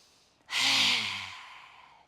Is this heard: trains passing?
no